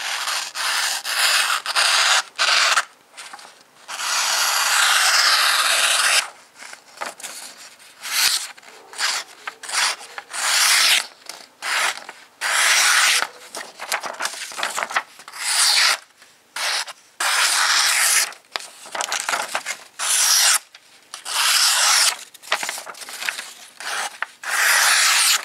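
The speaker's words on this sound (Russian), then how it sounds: "заточка ножа на сегодня закончена" Knife blade being sharpened on a Lansky guided sharpening system, steady close rasping strokes of stone on steel in rapid bursts with short pauses, continuous and fairly loud throughout.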